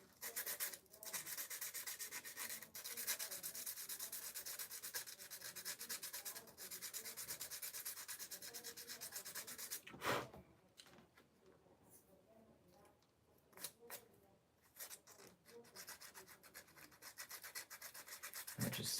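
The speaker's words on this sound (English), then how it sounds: "I just sand it here." Hand sanding heard up close as steady, rapid back-and-forth rubbing strokes that run continuously, pause briefly, then resume in shorter bursts, quiet overall with no talking.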